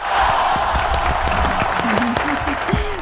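An audience at a televised interview applauds, a full, steady burst of clapping with crowd noise, while a voice speaks over it near the end.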